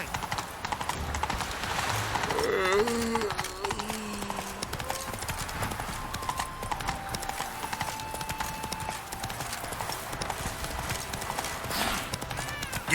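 Hooves of the horse Roach clip-clop at a steady gallop in The Witcher 3, a rapid rhythmic beat running throughout beneath game music, with a brief whinny near the start.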